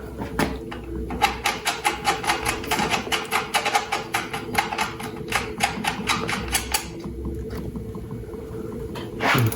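A bolt is screwed into the rear wheel motor of a Spark (Rize) Blade e-bike, with a rapid, close run of clicking ratchet-like ticks that speeds up and then stops, over a low mechanical hum.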